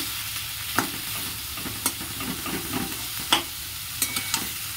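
Chopped beetroot frying in a pan with a steady sizzle, broken by a handful of scraping stirs from a spoon against the pan at irregular moments; no one speaks.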